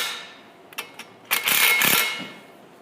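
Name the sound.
impact wrench driving radius arm bolts on Early Bronco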